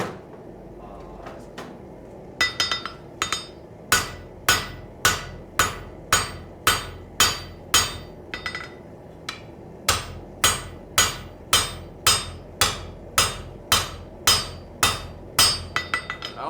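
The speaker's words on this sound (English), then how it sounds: "I'm just cleaning up this edge, flattening it out" A thick blade edge being flattened during forging, struck by a hammer in a steady run of about twenty loud, ringing metallic blows, evenly spaced after a few scattered opening taps.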